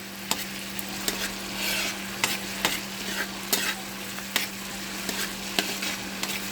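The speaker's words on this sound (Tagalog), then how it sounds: "Tigisa muna natin tong bawang." Garlic sautéing in a pan as the base for a shrimp dish: a steady sizzle of frying oil with regular scraping clicks of a utensil stirring against the pan, close up and with no talking.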